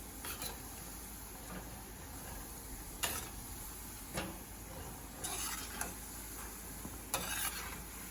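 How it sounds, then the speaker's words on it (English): Falafel frying crisp in oil over medium-high heat, a faint steady sizzle broken by occasional short scraping and stirring strokes, quiet and without voices. "Fry it until it becomes crispy"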